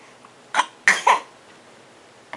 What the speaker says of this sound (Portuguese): deixa eu ver como é que tá essa tosse.